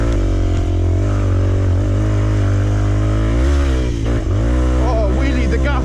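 Dirt bike engine labouring loud and close as it climbs a steep hill on a rear tyre worn bald, revs holding steady then surging near the end, with a rider's voice over it.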